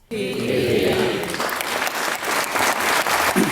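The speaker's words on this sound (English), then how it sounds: "Round of applause, please." A crowd bursts into applause, dense steady clapping that starts abruptly and carries on at an even level for a few seconds.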